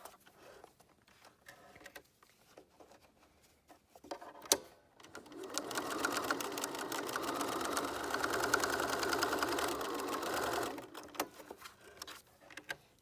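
A sewing machine stitches a K&M face mask, reverse stitching a seam for strength. One loud, sustained whirring run lasts several seconds, with quieter handling noises before and after it.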